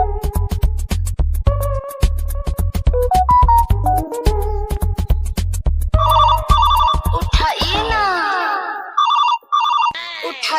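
A phone ringtone plays loud and close in a steady repeating electronic melody, then shifts into a different chiming ring pattern before cutting off.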